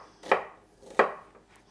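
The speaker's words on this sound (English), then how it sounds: "this I'm gonna cut into cubes for my salsa and for my stir fries" A knife cuts vegetables into cubes on a cutting board, giving two crisp, separate chops about two-thirds of a second apart, close and clear against a quiet background.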